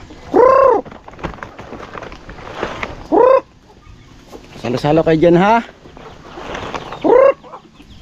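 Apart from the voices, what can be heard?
chickens clucking while being fed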